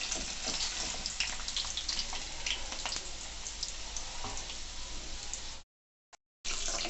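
Pieces of snake gourd fry in a pan with a steady, dense sizzle that runs close and loud for most of the clip, then drops out briefly near the end before resuming.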